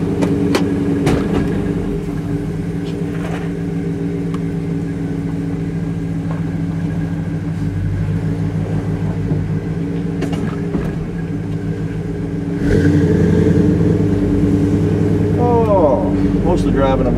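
A 1991 GMC Jimmy cruising with every window open, steady engine and road drone with wind rumble throughout, growing louder in the last few seconds, while people talk over it.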